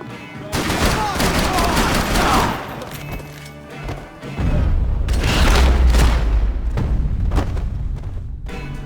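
Gunfire and heavy booms in the video game Max Payne 3, loud dense bursts of shooting with thuds, under shouted in-game voices, swelling again in a sustained loud stretch of firing and rumble.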